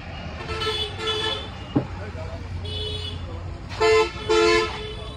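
A family bus pulls in at the Siliguri car stand amid traffic, with a low engine rumble, one sharp knock and several short horn toots, the last two loud and close, while people talk nearby.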